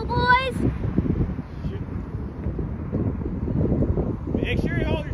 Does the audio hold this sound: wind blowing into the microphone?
yes